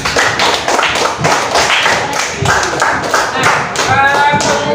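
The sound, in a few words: class applauding the groups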